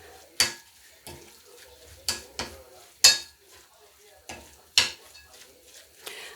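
Vegetable suet being mixed into a Christmas pudding mixture in a bowl, heard as a string of sharp scraping and knocking strokes, roughly one each half-second to second, close and fairly quiet, with no talk.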